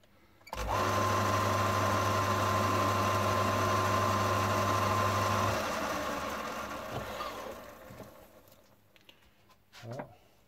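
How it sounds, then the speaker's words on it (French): A small drill bores into a carburetor jet holder, likely a 26 VBN or 26 VX part. It makes a steady, loud whirring hum for about five seconds, then fades and winds down, with a few faint clicks near the end. "Le plus compliqué, c'est d'avoir la patience de percer"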